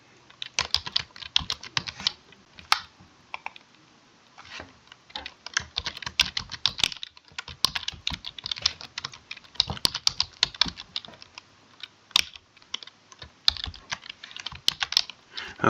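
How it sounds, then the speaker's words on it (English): Typing on a computer keyboard to enter a name in a sign-up form, with rapid, irregular clicky keystrokes close up for a sustained stretch and no talking. "here I'm just going to type John"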